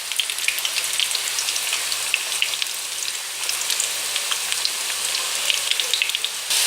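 Aloo pakoras deep frying in oil give a steady, dense crackling sizzle like rain on a surface, with fine pops throughout and no voices.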